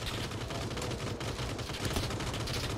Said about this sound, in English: Oh, they're shooting from the window.